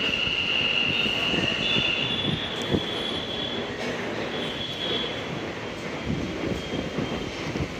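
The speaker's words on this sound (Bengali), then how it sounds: "এই দেখো এসে পড়েছে ট্রেন" An Ahmedabad metro train pulls into a station with a loud, continuous rolling rumble and rattling wheels, a high squeal at the start that fades, and steady clattering as it slows.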